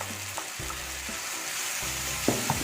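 Chopped onions and tomatoes sautéing in a pan for a creamy chicken curry: a soft, continuous sizzle broken by several scraping stirs of a spoon against the pan.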